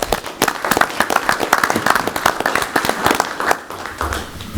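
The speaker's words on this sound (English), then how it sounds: "So if we can give them a round of applause." An audience at a Greater Lafourche Port Commission meeting applauds retirees with a few seconds of steady, fairly close clapping from a modest crowd.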